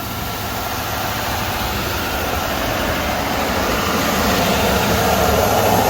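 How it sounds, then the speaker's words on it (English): A Ford truck engine holds a steady high idle during an operator-commanded exhaust regeneration. It gives a loud, constant, broadband roar and hiss close by that swells slightly toward the end, with no talking. "See, it's at a high idle."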